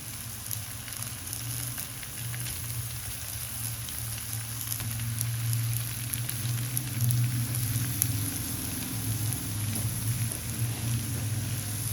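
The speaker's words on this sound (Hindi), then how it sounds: "इन कबाबों को बनाने की सबसे अच्छी खासियत कि लेस ऑयल में ये फ्राई होता है" Chicken kebabs sizzling in a small amount of oil in a pan, a continuous, even hiss and crackle with a low steady hum underneath, with no break throughout.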